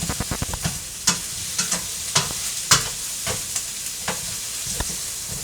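Squash with onions and meat stir-fried in a pan, a steady sizzle broken by repeated scraping and clattering strokes of a utensil at an uneven rhythm, close and fairly loud.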